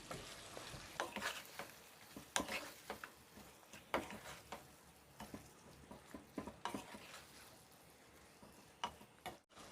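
Tomato and capsicum cubes being stirred in a pan, soft, quiet scrapes and ticking clicks of a spoon on metal repeating irregularly over a faint low sizzle.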